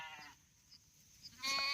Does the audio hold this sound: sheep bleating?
yes